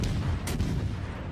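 A battleship's guns fire a salvo in World of Warships: Legends, a heavy, booming report with a sharp crack partway through over a low rumble.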